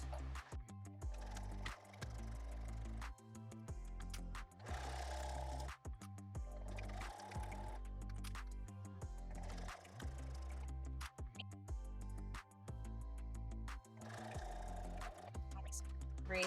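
A sewing machine runs a straight stitch along a zipper on a small fabric pouch, a quiet rhythmic mechanical whir in repeated bursts with short pauses between runs.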